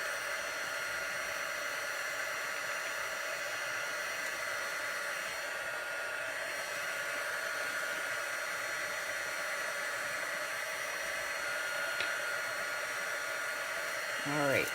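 A heat embossing tool blows hot air over embossing powder on a rubber-stamped image, a steady close whirring hiss that runs unbroken throughout before a brief shift at the end, with no talking.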